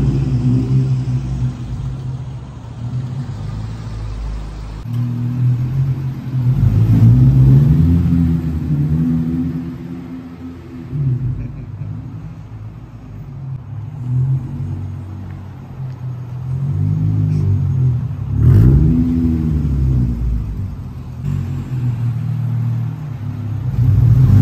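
Acura 3G TL with a six-speed manual, Black Widow muffler and dual tips, revving repeatedly: deep exhaust rumble swelling and falling in several rising blips over a steady idle, close and loud, no talk.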